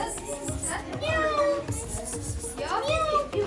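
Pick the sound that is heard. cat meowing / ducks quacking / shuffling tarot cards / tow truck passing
cat meowing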